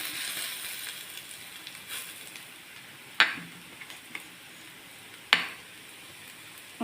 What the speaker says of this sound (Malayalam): പച്ചമണം മാറുന്നത് വരെ ഒന്ന് വഴറ്റാം.